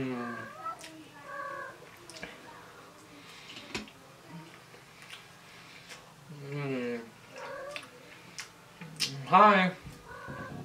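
A pet cat meows several times in a home kitchen during a pizza meal, the short rising and falling cries spaced apart, with a person talking softly between them and a louder, drawn-out cry near the end.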